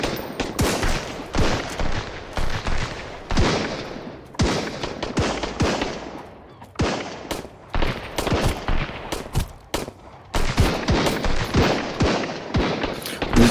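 Rifle fire in the survival game Sunkenland during a raid on a distant slaver island, with dense, loud bursts of rapid shots in irregular volleys and short pauses throughout.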